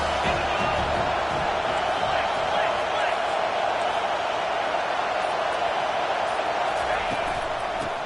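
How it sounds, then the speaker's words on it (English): A football stadium crowd roaring on a third down, a loud sustained wall of cheering and shouting heard under an announcer's play-by-play commentary. "Third down, and this crowd is tearing the lid off this place."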